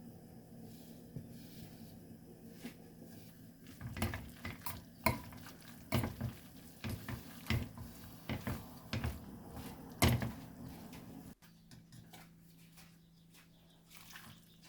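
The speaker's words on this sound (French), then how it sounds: "Je verse environ 2 louches d'eau de cuisson et je remue." A spoon stirs pasta cooking water and grated cheese in a pan for cacio e pepe, giving soft wet scraping and clinks against the pan in an irregular rhythm, close but quiet over a low steady hum.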